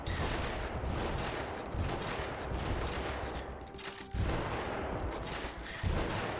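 Gunfire hits the player's mech in the video game Hardpoint. Dense, rapid bursts of shots and impacts run without a break, surging louder at a few points.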